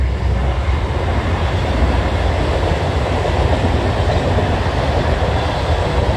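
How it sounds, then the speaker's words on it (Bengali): A train rolls past a level crossing in a nursery district, a continuous loud rumble with wheel clatter that fills the whole stretch without letup and no voices. "দাঁড়াও এক সেকেন্ড, ট্রেন যাচ্ছে"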